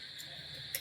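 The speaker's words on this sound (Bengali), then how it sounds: "আর ঝিঝি পোকা ডাকছে, দেখেছো কেমন শুধু" Crickets chirping at night after rain around a simple house, a steady, faint high-pitched trill that runs without a break, with a soft tick near the end.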